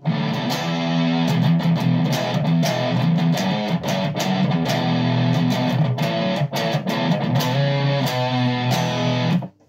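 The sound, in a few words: guitar distortion effect from multi-effects pedal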